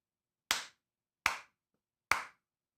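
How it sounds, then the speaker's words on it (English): Sharp hand claps made close to a microphone, three separate crisp claps evenly spaced with silence between them, no other sound. "I can just do that clap."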